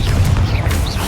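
A Confringo fire spell blast in Hogwarts Legacy lands as a loud, booming burst with a deep rumbling low end that fills the whole short moment.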